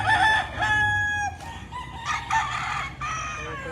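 A bull stag rooster crows loudly and close by in Padre Garcia, Batangas, with one long drawn-out call followed by shorter clucks and calls from nearby chickens, and no one speaks.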